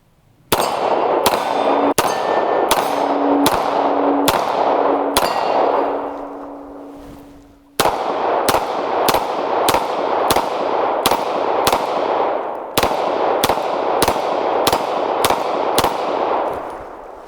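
A semi-automatic pistol fires an 18-round magazine at a shooting range: a series of sharp, loud gunshots in a steady rhythm, each with ringing metallic echo, a brief pause midway, then the shots continue to the end.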